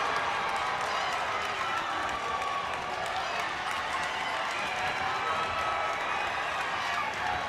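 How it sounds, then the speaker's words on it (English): A St. Elizabeth basketball crowd at a varsity game against Salesianum cheers and applauds steadily, a loud sustained roar of clapping and shouting that fills the gym from start to finish. "St. Elizabeth's crowd really happy now."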